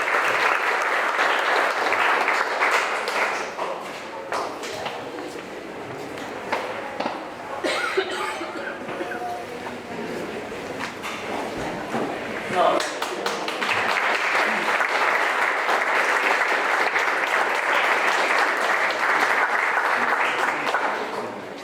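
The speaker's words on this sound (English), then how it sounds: "Ladies and gentlemen, let's give Catherine another nice round of applause" A crowd at a county fair senior recognition event gives sustained applause. The dense clapping eases somewhat in the middle with a few scattered voices, then swells again and holds to the end.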